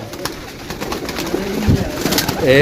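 Flying pigeons from a rooftop flock of about 160 birds at sunset, giving soft coos and rustling over a steady background murmur that swells slightly near the end.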